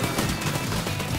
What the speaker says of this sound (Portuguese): Ele atira bastante esse lançador.